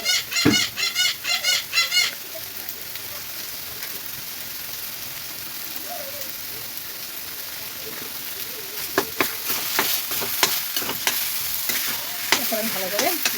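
Taro leaves with cumin and chili powder sizzle in a pan as they are stirred. A few sharp chirps come first, then a constant frying hiss, broken later by clustered scraping strokes.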